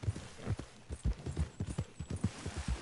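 A black horse's hooves clip-clop in a video game, a steady, fairly quiet walking rhythm of repeated hoof strikes that continues evenly throughout with no talking.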